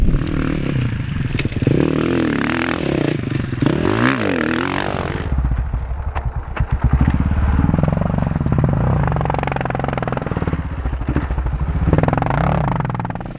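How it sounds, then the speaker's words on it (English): An enduro dirt bike ploughing through soft sand ruts: the engine drones and revs loudly for the whole stretch, rising and falling with throttle, with scraping and clattering as the tyres churn the sand. "ride the bike into the rut or the berm standing up, back to your sitting position, back on the gas, and out of the sand"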